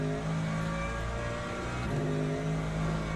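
Porsche race car engines in Le Mans Ultimate drone steadily, a dense mid-pitched whine with slight revving swells, loud and continuous with no voices.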